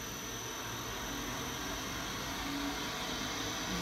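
Lyson cassette honey extractor spinning on a Mitsubishi electric motor, a smooth, steady whirring hum with a soft airy rush, continuous and fairly quiet with no speech.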